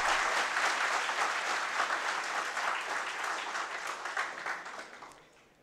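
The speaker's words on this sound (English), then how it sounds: "I thought you were going to clap for me" An audience at a climate change expert session breaks into sustained clapping that holds steady for several seconds, then thins out and fades toward the end.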